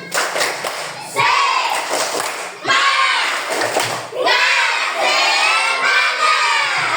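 Children in a classroom lesson doing a spirit clap chant, loud group bursts of clapping mixed with shouted chanting voices in several rhythmic phrases, close and energetic.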